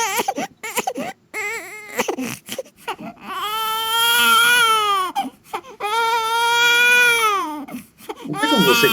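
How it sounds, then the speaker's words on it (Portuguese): A newborn baby cries loudly and up close, starting with short broken whimpers and then settling into long, wailing, strongly pitched cries with brief gasps between them. "um choro de recém-nascido"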